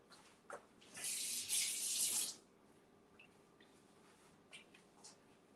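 Tap water runs into a kitchen sink for about a second as a spoon is rinsed during home cooking, a steady hiss that stops abruptly, followed by faint clinks and quiet handling.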